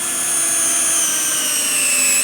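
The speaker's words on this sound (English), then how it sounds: "I'm going to put this long drill in here. It's an ordinary twist drill." A Festool cordless drill driver (CXS or TXS) runs a long ordinary twist drill sideways through a workpiece, making a steady, loud, high motor whine with a slight pitch drift throughout. No one speaks.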